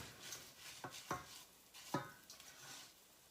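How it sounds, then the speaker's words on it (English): Risotto rice grains being stirred and toasted in a pan, with a few sharp scraping and clinking strokes of a spoon against the pan over a faint, quiet sizzle, no talk. "Gotta roast or toast all the kernels of the rice, all the grains."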